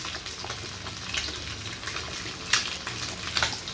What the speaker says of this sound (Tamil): நல்லா இப்படி கொதிக்கிறது, சலங்கை கொதி